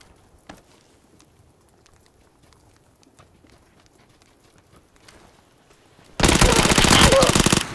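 An Uzi submachine gun fires in a video game, a sudden loud burst of rapid automatic fire that erupts near the end after a long stretch of near quiet.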